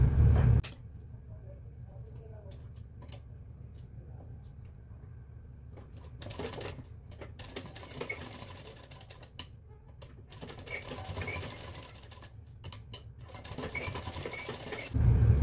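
A sewing machine stitches a garment sleeve, its fast mechanical needle chatter running in bursts of varying speed, close and fairly quiet, with no talking.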